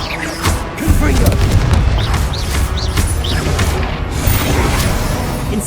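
Confringo fire spell blasts in the Hogwarts Legacy video game: a deep booming burst followed by sustained rumbling, crackling combat noise with repeated impacts, loud and dense throughout, with other game effects layered in.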